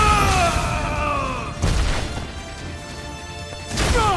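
Iron Man's Proton Cannon in Marvel vs. Capcom: Infinite: a heavy energy blast booms out with a crashing impact, followed by a second burst near the end, loud and close over game effects.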